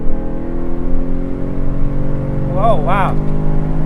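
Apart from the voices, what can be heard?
Chevrolet TrailBlazer SS engine revving while accelerating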